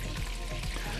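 Trout frying in butter in a pan gives a steady close sizzle and bubbling crackle, heard on its own without voices.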